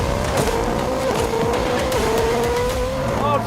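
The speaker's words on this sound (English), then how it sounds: "staging for launch, into full throttle and go!" A Koenigsegg Jesko hypercar launches from standstill at full throttle, its engine roaring loud and close with rising harmonic pitch sweeps as it accelerates hard through the gears.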